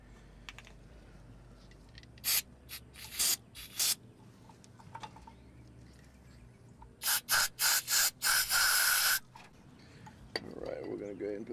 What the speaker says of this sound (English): We're gonna go ahead and spray it a little bit more.